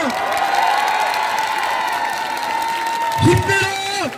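Crowd applause and cheering at an outdoor political rally in a market, a continuous wash of clapping and shouts with a voice rising over it near the end.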